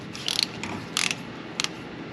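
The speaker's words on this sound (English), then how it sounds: "You're just going to get a 3/8 ratchet with like a 2-inch extension. Pull the drain plug out." A 3/8 ratchet with a 2-inch extension loosening the differential drain plug on an F-150 truck, three short bursts of rapid metallic clicking, close and clear with no talk.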